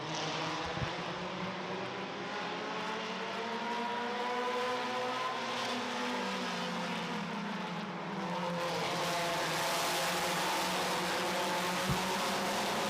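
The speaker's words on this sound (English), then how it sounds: "we're green flag racing here" Race cars at green flag racing during a heat race, engines droning loud and steady as the pack passes, with rising and falling engine pitches and no talk.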